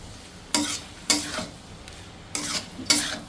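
A pan sizzles steadily as pasta fries while a utensil stirs and scrapes in four quick strokes, each stroke bringing a brief rise in the frying noise.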